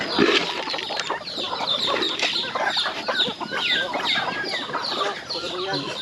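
A flock of native chickens clucks and squawks continuously nearby, with turkeys around, overlapping calls forming a busy farmyard chorus, with occasional voices mixed in.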